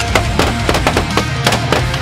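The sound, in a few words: shotgun shots at geese while goose hunting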